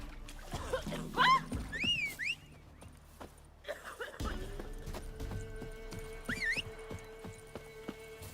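Roach, Geralt's horse in The Witcher 3, whinnies in several rising, wavering calls over soft clip-clopping hooves and ambient game sound, with a low, steady drone running beneath the later part.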